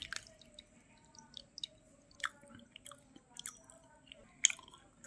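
Someone close by eats a pakhala rice meal of watered rice with greens and lemon, making soft wet chewing, squishing and slurping sounds at an irregular pace, with faint drips and no talk.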